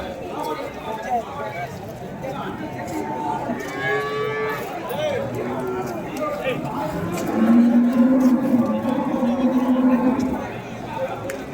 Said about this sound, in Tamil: ஸோ ஒரு சூப்பரான ஒரு ஜெர்சி மாடுங்க.